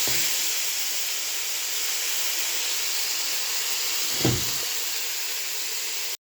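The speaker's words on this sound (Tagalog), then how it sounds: "parang kumukulo na" Constant broadband hiss of steam from a covered pot of tomatoes on the boil, steady and fairly loud, with a brief low bump partway through before it cuts off.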